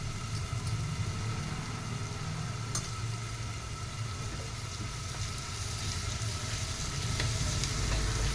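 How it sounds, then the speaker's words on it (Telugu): Spice masala with ginger-garlic, tomato and coconut paste fries in a pan for prawn fry, a steady close sizzle with occasional stirring clicks over a low rumbling hum. "వేసి మసాలా వేగనివ్వాలి పచ్చివాసన పోయేదాకా వేగనివ్వాలి"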